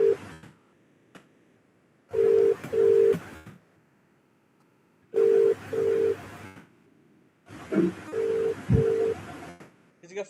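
Telephone ring tones come in three repeated bursts, each a pair of clear electronic tones with broadband noise, separated by quiet gaps, under a faint voice.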